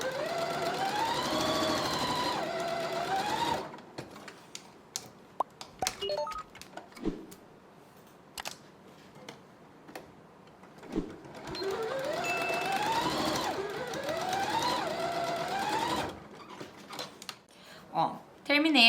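A sewing machine stitches a seam in two sustained, steady runs, starting and finishing with backstitching, with quieter clicks and handling noises in the gap between them.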